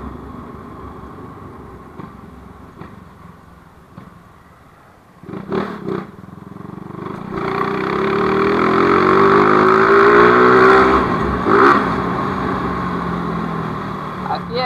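A modified Honda CG 160 motorcycle engine idles with a low putter, then rises in pitch as it revs up and holds a loud, close drone, with a brief voice over it.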